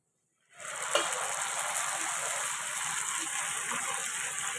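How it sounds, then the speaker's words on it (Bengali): Arhar dal pours into a pan of fried onions in oil, starting suddenly as a steady, hissing gush that keeps going without breaks, moderately quiet, with no speech. "এবারে আমি ডালটা দিয়ে দেবো"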